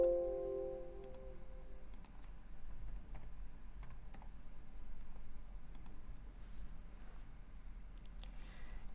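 An address is typed on a computer keyboard, a faint, steady run of light key clicks heard close in a quiet room with no talk.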